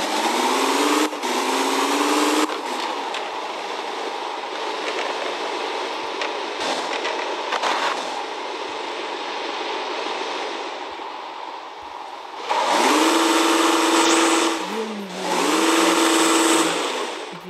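A BMW car engine runs steadily and revs, rising to louder, higher-pitched surges near the end, with no talking.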